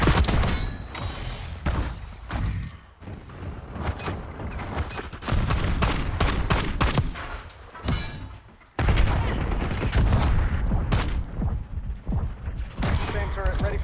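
Marksman rifle fire in a Call of Duty multiplayer match: repeated sharp, loud shots and impacts, several clustered bursts over about fourteen seconds, with brief quieter gaps and game clatter between.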